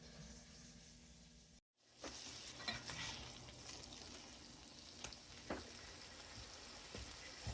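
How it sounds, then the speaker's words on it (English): Chicken burger bites sizzle in a frying pan with a steady broadband crackle and occasional louder pops, briefly cutting out once before resuming without talk. "I'm going to let them cook just a little longer on this side."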